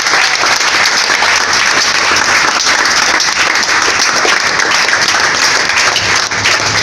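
A large audience applauding loudly and continuously, a dense wall of clapping held at steady volume throughout.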